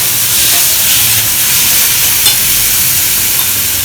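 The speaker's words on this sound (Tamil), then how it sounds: "கொஞ்சம் நல்லா வதங்கட்டும்." Chutney ingredients sauté in a frying pan with a loud, steady, close sizzle and hiss throughout, plus faint stirring scrapes, with no talk.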